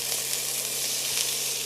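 Hot peppers hit hot oil and sizzle hard, a bright, even hiss of frying that holds steady and close for a couple of seconds with no voices.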